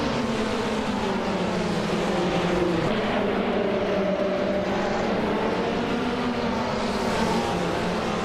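GT4 race cars led by a 2018 Ford Mustang GT4 roar together at Brno in a racing game, a continuous dense engine drone at steady loudness with no talk.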